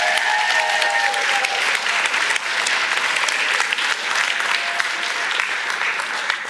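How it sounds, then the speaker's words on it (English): A church congregation applauds to welcome new members, a loud, steady wash of clapping that fills the room without pause and carries no speech over it. "give them another big round of applause"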